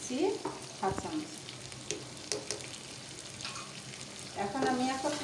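Patty filling sauced with tomato sauce, soy sauce and mayonnaise cooks in a pan, sizzling softly while a spoon scrapes and stirs in scattered strokes, with a brief louder sputter near the end.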